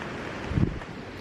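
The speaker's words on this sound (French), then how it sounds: "Il va y avoir un petit peu moins de vent." Wind blowing outdoors by the sea, a steady rushing noise with a brief stronger gust buffeting the microphone midway.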